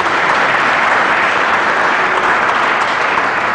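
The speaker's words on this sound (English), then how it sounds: "Give her a round of applause" Audience applause for the photographer Marcia at a tech camp event: steady, dense clapping from a crowd, loud and sustained throughout with no break.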